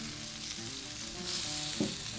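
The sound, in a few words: sausage and peppers sizzling on the grill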